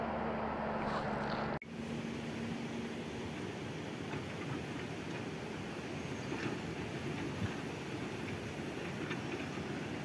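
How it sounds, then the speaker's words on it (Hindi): A river flows with a constant, dense rushing roar on a mountain road between Dharchula and Munsyari, preceded by a brief engine hum that cuts off abruptly, with no speech. "यहाँ पे नदी बह रही है"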